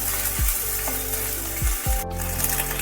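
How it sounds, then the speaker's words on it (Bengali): Garlic and ginger paste frying in oil in a pan, a continuous close sizzle with several low knocks of a spoon stirring against the pan. "রসুন বাটা দিয়ে দিলাম একটু সম পরিমাণ আদা বাটা। একটু নেড়ে নিচ্ছি।"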